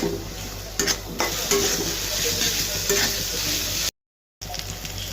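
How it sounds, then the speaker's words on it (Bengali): Onion paste stir-frying with ginger-garlic paste and spices in a pan, a loud close sizzle broken by scraping stirs and a few spatula knocks, then a brief cut to silence before the sizzle resumes. "পেঁয়াজ বাটা দিয়ে মিক্স করে দিচ্ছি।"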